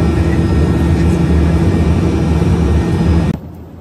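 Loud, steady engine roar and rushing air inside a private jet cabin in flight, a constant drone that cuts off abruptly near the end.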